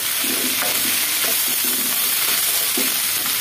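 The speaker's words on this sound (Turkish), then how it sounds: "Evet, kışlık dondurucuda biber kavurması yapıyoruz." Peppers roasting in a pan for freezer storage, a steady loud sizzle with repeated stirring scrapes and clinks, no talking.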